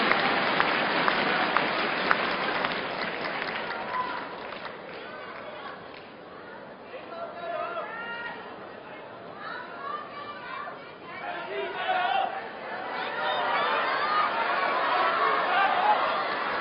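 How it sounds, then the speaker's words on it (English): A partisan crowd at the Hong Kong Open badminton match chatters and applauds in a steady, fairly loud wash, with clapping swelling toward the end and commentary underneath. "Listen to the crowd, there's definitely a partisan feel to it."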